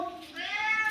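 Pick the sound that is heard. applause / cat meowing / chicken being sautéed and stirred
cat meowing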